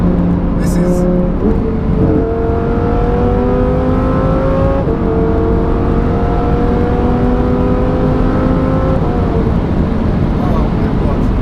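A 640 bhp Lamborghini Huracan Performante engine pulls hard through the gears, its rising howl dropping briefly at each upshift, loud and close with steady road roar beneath and someone talking over it.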